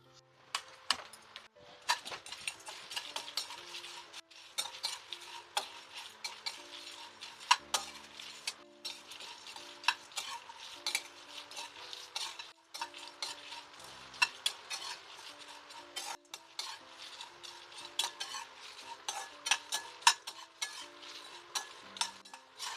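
Whole spices, coriander seeds and dried red chillies dry roasted in a pan for garam masala, with a continuous rapid rattling and scraping of stirring, light clinks against the pan and a faint sizzle.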